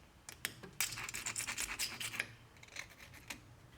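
A metal pick scrapes rust from the brake caliper piston of a 2002–2012 Nissan Altima, a run of quick, faint, close-up scratching strokes with short pauses between them.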